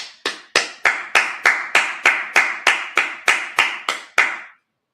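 A run of about fifteen sharp, evenly spaced hand claps from a congregation at a Sabbath service, loud and close, with no voices, ending abruptly.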